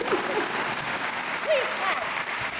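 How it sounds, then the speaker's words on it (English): Applause from an audience at opening remarks, a steady moderate wash of clapping with a few voices calling out through it. "You can clap."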